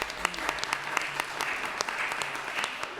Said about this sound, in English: Y'all clap for them, please.